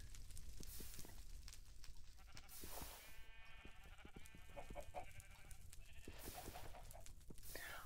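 Sheep bleat in the video game Minecraft, several short cries spread across a quiet backdrop along with faint clicks and soft game noise.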